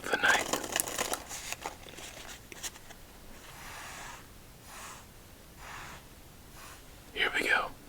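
A Tally-Ho deck of playing cards is shuffled in quick riffling bursts, a crisp fluttering at the start and again near the end, with soft rustling between.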